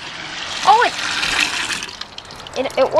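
Water rushes and gurgles through a custom-built toilet as it flushes, a steady broadband wash with a voice speaking briefly over it near the start and again at the end.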